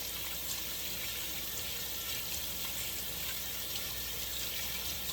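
Steady running water from a kitchen tap while a sink is cleaned out after handling ground meat, a constant close hiss and splash that continues without a break.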